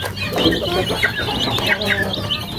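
Several chickens clucking and murmuring together nearby, a busy overlapping chorus with faint background voices.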